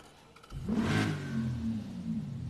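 Souped-up work side-by-side converted to a dually, its engine revving hard from idle into a loud sustained drone while driving, close and without talk.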